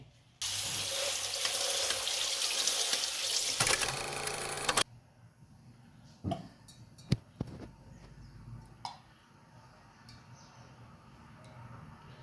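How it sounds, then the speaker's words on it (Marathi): Tap water runs hard and splashes steadily over poha in a sieve for about four seconds, then cuts off, leaving scattered small knocks and clinks in a quiet room. "डायरेक्ट नळाखाली मी चाळणीतच पोहे भिजवते"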